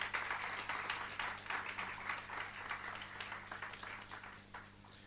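Audience applause at a valedictory function for a moot court competition, steady broadband clapping that holds through the whole stretch at a moderate distance, slowly easing toward the end.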